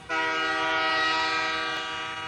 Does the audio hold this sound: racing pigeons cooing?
no